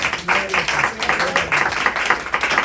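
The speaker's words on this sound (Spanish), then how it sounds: "Un fuerte aplauso a la evangelista" An audience claps for an evangelist at a church workshop in El Salvador, a dense, steady wash of many hands lasting throughout at close range, with voices mixed in.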